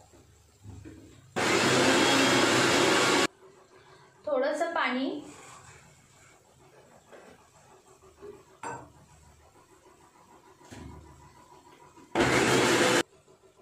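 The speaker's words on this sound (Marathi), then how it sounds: "तर आपण पहिल्यांदा मिक्सरला हे बारीक करून घेऊया।" A kitchen mixer grinder grinds coriander masala for a prawn curry in two loud bursts, a long run near the start and a short one at the end, with talk in between.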